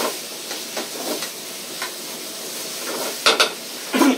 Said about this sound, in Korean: 기가 막히게 볶아지고 있습니다